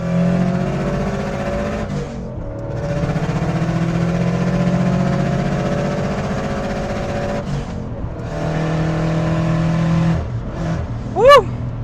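Tuned Subaru Impreza WRX on an open road, engine droning steadily as it accelerates to overtake, with a couple of gear changes breaking the tone and a brief rising whine near the end.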